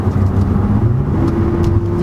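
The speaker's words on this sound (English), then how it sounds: "It's got a nice sound. It's got the TRD exhaust." A 2020 Toyota Camry TRD with its TRD exhaust gives a steady, close engine and exhaust drone, holding an even tone for about two seconds with no one speaking.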